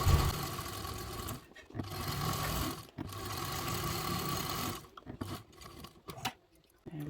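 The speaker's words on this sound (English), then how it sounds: "we're just going to base stitch this all the way around so that your front panel and lining panel are" A sewing machine runs stitching the front and lining panels of a crescent-shaped bag together, a loud buzzing mechanical whir in long runs with short pauses, then a few stop-start bursts near the end.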